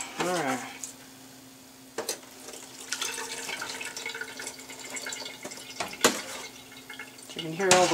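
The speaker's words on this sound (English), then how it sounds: "Water pouring through." Water from strained tomato pulp pours and trickles through a kitchen strainer during tomato paste preparation, with intermittent splashes and drips, a few sharp clinks, and a low steady hum.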